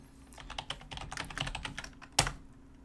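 Rapid keystrokes clatter on a computer keyboard while a player name is entered into a game chat, with one louder keypress near the end, close and alone without speech.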